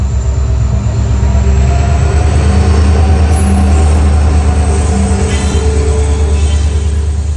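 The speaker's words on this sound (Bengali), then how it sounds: "দুটো দেখলে তোমরা ট্রেন পার হলো" A train rumbles loudly and continuously past a railway crossing at close range, its heavy wheels and wagons making a steady roar with no talk.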